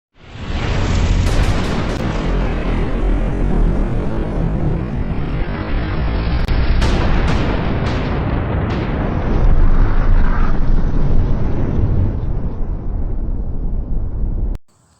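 Shotgun blasts at an outdoor range from a Turkish Hatsan Bulltac and a Chinese JTS Dual Action shotgun, loud booming reports running almost continuously for about fourteen seconds with sharp cracks layered over a heavy, sustained rumble.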